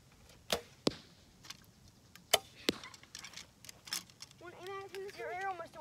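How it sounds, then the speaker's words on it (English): Arrows fired from bows thud sharply into an outdoor target, several distinct impacts spaced a second or so apart, followed by people talking over the sounds. "Your arrow must have went all the way through because it's holding up"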